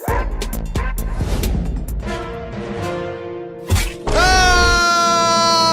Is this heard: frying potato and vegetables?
no